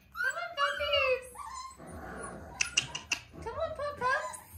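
Puppies whimper and yip in high, sliding cries that come in clusters close by, broken by a few sharp yaps, with a person talking to them in between.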